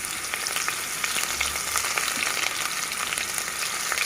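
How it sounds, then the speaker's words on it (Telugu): Two large onions frying in about 50 ml of hot oil for chicken kurma give off a steady, loud, close hiss and sizzle, with faint crackles throughout and no voice. "మంచి గోల్డెన్ బ్రౌన్ కలర్ వచ్చేంత వరకు వేయిద్దాము."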